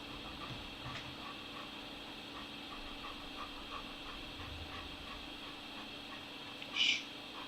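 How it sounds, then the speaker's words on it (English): A Great Pyrenees dog breathing and panting loudly near the microphone in a quiet room, steady and rhythmic, with a brief higher whimpering sound near the end. "It's a Great Pyrenees."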